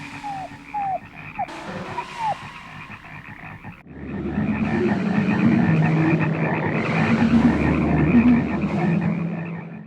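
Frogs croak in a horror film soundtrack, with a few distinct croaks at first giving way to a dense, loud chorus of croaking over a low rumble.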